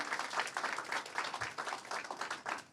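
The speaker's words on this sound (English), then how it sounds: "I want to ask you all to, for a round of applause for our panel." Audience at a conference on noncommunicable diseases and mental health applauds a panel with steady, dense clapping heard from the room, fairly faint and without talk.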